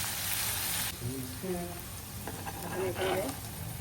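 Chopped onion fries in a pan for a stuffed pomfret dish, a steady sizzle that softens after the first second while a person talks over it.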